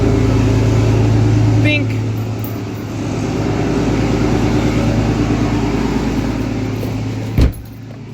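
A Cummins diesel truck engine starting and settling into a steady, throbbing idle, loud and close; a brief voice is heard near the start and a sharp knock late on.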